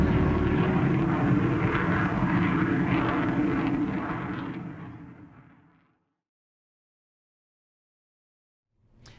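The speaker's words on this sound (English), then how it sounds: "We love jet noise." A jet aircraft roars loudly for about four seconds, then the broad rushing noise fades away to near silence, and a faint brief sound follows at the very end.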